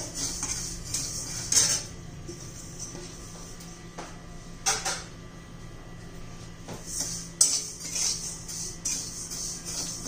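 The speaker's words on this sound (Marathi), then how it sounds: "हे कारळे पण आपल्याला लो फ्लेमवर भाजून घ्यायचे आहे।" Niger seeds are dry-roasted in a pan over low flame, with a spatula scraping and clinking against the metal at irregular intervals over a quiet background.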